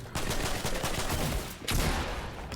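Loud Fortnite gunfire in a replay, a dense sustained burst of shots, then a short break and another heavy volley.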